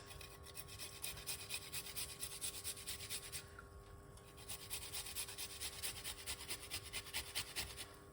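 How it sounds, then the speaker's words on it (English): Fresh ginger rubbed against a grater in a kitchen gives a steady, rhythmic rasping scrape, stroke after stroke, close and fairly loud over a faint constant hum. "What we're going to do is grate the ginger"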